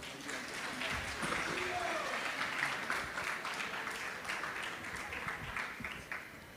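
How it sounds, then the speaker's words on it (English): Audience applause for a guest at a Sunday temple program in Toronto, a steady wash of clapping from a fairly distant crowd with voices murmuring underneath. "A huge round of applause."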